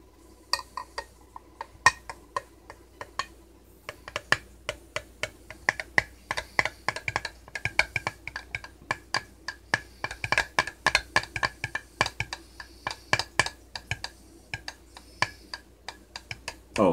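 A spoon stirring iced coffee in a glass, rapid uneven clinks and ticks of metal against glass and ice that continue throughout, fairly close and crisp.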